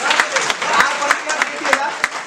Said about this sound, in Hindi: तो जोरदार तालियां इस पर।